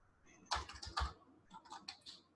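Quiet, close keystrokes on a computer keyboard as a page name is typed, two short bursts of rapid clicking separated by a brief pause, with no talking.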